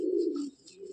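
A very old blue-patch Madrasi pigeon gives a strong, close coo that swells and then fades, followed by a softer second murmur, heard alone.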